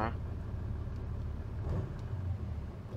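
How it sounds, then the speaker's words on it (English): In the video game Squad, a vehicle engine approaches as a low, faint rumble under battlefield ambience. "I hear a vehicle, I think."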